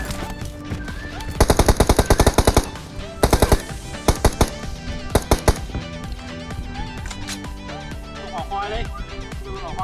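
Automatic gunfire from PUBG Mobile rattles in several rapid bursts, some long and sustained and others short and clipped, loud and close, while someone talks excitedly over the game sounds.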